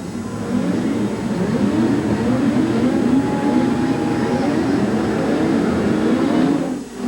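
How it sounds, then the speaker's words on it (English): Grand National off-road sport trucks race at the Los Angeles Coliseum in 1988, a steady loud roar of several engines running together for the whole stretch, fading slightly at the very end. "we're off and running the Grand National Sport Trucks here at the Los Angeles Coliseum"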